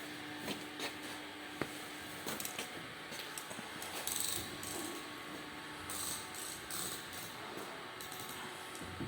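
Steady mechanical running of a 55 kW wood pellet machine, with its gearbox and soft-start electric motor droning and faint ratcheting clicks throughout, moderately quiet and without speech.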